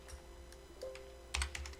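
Computer keyboard keys are typed while searching for fonts: a few scattered single keystrokes and then a quick cluster of close, crisp clicks in a quiet room.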